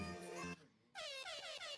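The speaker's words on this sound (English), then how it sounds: "Air horn." A loud air horn blares twice, a brassy sustained blast cut by a brief gap, followed by short pulsing honks.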